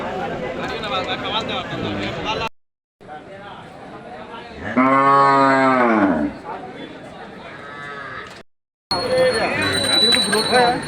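Cattle and bulls of Deshal, Sahiwal and cross breeds at a busy rural livestock market, with a loud nearby moo mid-way over constant crowd chatter and a bell ring, cut by brief silent gaps.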